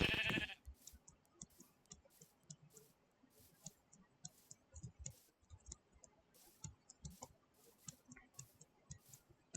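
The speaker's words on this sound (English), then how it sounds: "Just gonna kill some sheep as I try to get home" Sheep bleating in the Minecraft video game, a short loud burst at the start followed by faint repeated clicks and small game sounds, with no talking.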